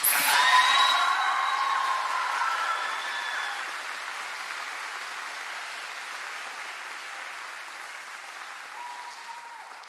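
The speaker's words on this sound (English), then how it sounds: "So if we can please give her a round of applause." Graduation ceremony audience breaks into loud applause that starts abruptly, then slowly thins and fades over about ten seconds, with no talking over it.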